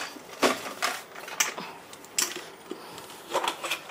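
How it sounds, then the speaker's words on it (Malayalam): Mustard seeds splutter in about two spoons of hot ghee, giving scattered sharp pops and crackles in irregular bursts, close and fairly quiet. "നമുക്ക് ഇച്ചിരി നെയ്യിൽ കടുക് വറക്കാം."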